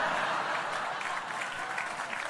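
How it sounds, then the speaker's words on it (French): Audience applause at a Fabrice Eboué comedy show: a steady, moderately loud roll of many hands clapping, slightly stronger at the start, with no speech over it. "Arrête d'applaudir, connard."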